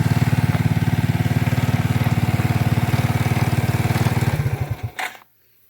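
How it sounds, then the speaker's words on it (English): A four-wheeler ATV engine runs loud and close with a steady throbbing idle, then slows and cuts off near the end, leaving silence. "So now I should be able to shut the four-wheeler off."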